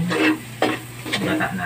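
Santol being stirred with coconut milk in a pan: a few soft wet scrapes and swirls over a faint sizzle, close by, across a short stretch.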